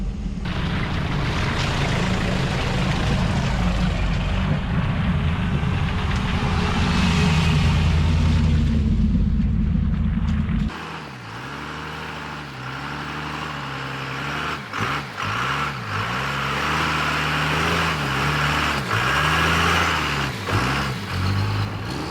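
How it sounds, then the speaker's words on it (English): A Cummins-engined Nissan Patrol 4x4 works down a slippery dirt track, its diesel engine a loud, steady low drone at first, then dropping to an uneven rumble with repeated surges and rocking revs as the truck slides along. "Power driving, going down the slippery bit first."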